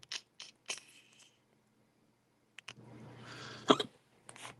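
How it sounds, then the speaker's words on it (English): A man's hiccups while building a Lego Ninjago display, several short sharp gulping bursts spaced irregularly with quiet gaps between, close and fairly soft. "man, hiccups suck"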